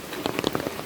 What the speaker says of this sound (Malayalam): ഭയങ്കര മഴയാണ്, ഒരു രക്ഷയില്ല.